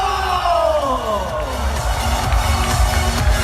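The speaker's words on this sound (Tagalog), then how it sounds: "Everybody stand up and let's give millions of claps our President and CEO" A large audience at a corporate event in Melbourne cheering and whooping as the president and CEO is introduced, loud crowd roar and shouts with music underneath, clapping blended into the din.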